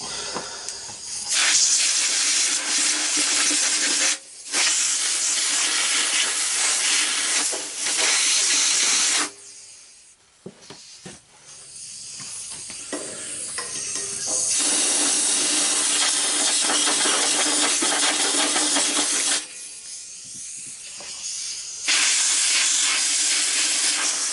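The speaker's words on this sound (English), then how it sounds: "Something tells me I'm going to have to let the air compressor build up for a second." Compressed air from an air compressor blasts debris off a 1963 David Bradley 725 walk-behind tractor, loud hissing bursts of several seconds each, separated by short pauses.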